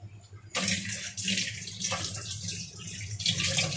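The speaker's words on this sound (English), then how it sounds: "Let me wash my hands." Water runs from a kitchen tap as hands are washed during falafel cooking, a close, steady splashing gush that starts abruptly and continues with slight fluctuations.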